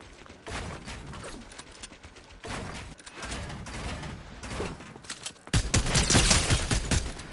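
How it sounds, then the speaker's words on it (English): Fortnite gunfire in a competitive skin tournament match comes as dense bursts of rapid shots, broken by short pauses and swelling into a loud final volley, with no talking over it. "Now Haley takes a couple of shots and brings them out on Flicks"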